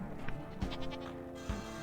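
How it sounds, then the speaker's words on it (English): A goat bleats in the Sally Face video game, two short wavering calls a second apart, set over a steady background hum of construction noise. "construction and goat sounds. I hate it."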